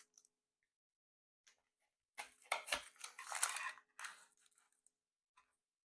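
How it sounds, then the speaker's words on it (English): A knife cuts through the flaky, crispy crust of a blueberry galette with a quiet crunching and crackling burst of a few seconds, set among near silence and faint taps. "I am going to cut a piece for you."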